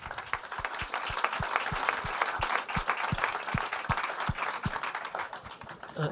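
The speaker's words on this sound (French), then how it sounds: "On peut l'applaudir." An audience at a climate and water crisis discussion gives a round of applause, a dense patter of many hands clapping steadily and close for several seconds without speech.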